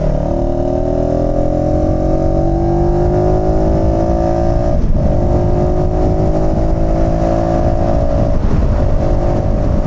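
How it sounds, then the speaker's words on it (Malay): Car engine steadily droning and straining as the vehicle overtakes a lorry on a dark road, a loud continuous hum with rising tones and no talk over it. "Oh, lori ni suruh kita potong."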